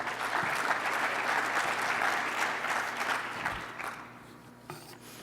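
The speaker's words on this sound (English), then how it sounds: "Please give them a round of applause" Audience applauding award recipients at a surgical society meeting, steady broadband clapping from a crowd that holds strong for about four seconds and then thins and fades.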